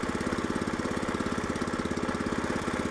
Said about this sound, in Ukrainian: От, Газ на мінімум поставили, але мотоблок не заглох.